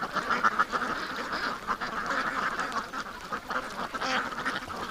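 A flock of ducks quacks continuously, overlapping calls forming a dense, moderately loud chatter throughout, with no single voice standing out.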